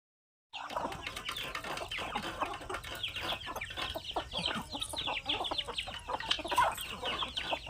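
Chickens cluck repeatedly and busily at close range, a dense stream of short clucks and murmurs after a moment of silence.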